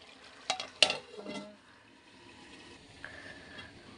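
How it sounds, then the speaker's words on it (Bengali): Potato chorchori curry is stirred in a pan, with a few brief scraping strokes early on and then a quiet background, all fairly faint, with no talking. "ভালো করে লেদে দিই সিদ্ধ হওয়ার সিদ্ধ না হওয়া পর্যন্ত আবার ঢেকে দিই"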